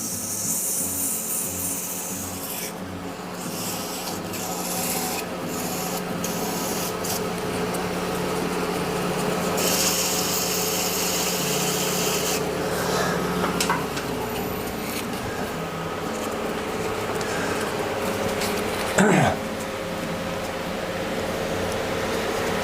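A wooden or resin-cast handle being sanded through successive grits gives a steady, unbroken broadband hiss that runs close and even for the whole stretch, with no voices over it.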